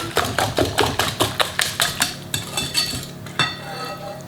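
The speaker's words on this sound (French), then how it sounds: "On mélange." Quick rhythmic clinks of a utensil against a bowl as cake batter is mixed with liquid cream, about a dozen sharp taps in a steady beat before slowing into softer, scattered strokes.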